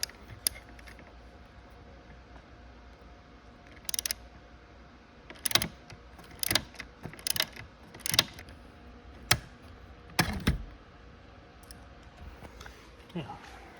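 A ratchet with a standard socket turning a seat bolt on a BMW E39 M5, a series of close, distinct clicks and ratcheting bursts spaced out over quiet background, with someone speaking at times.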